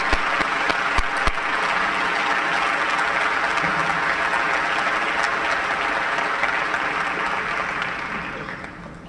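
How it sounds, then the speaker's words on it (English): An audience at a senior academic recognition ceremony gives the students a full, sustained round of applause. The clapping holds steady and dense for several seconds, then fades away toward the end. "Please join me in one more round of applause to these students."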